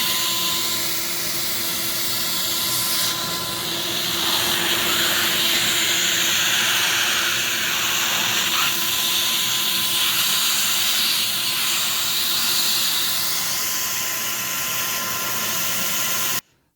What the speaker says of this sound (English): I can vary the amount of suction on it by putting my hand around the vacuum hose there